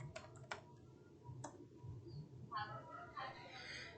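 Quiet, scattered clicks of keys being typed on a computer keyboard, in short uneven bursts over a low background hum.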